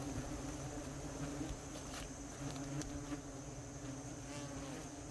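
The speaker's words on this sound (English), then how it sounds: "Anytime I take apart nests near there, they freak out and they swarm." A swarm of European hornets around their nest, a dense, steady buzzing drone of many insects close by with individual wingbeats passing near the microphone, fairly faint and continuous with no talk.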